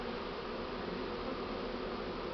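A swarm of young Buckfast honeybees pours into a hive, making a dense, steady buzzing hum that stays close and constant throughout with no pauses.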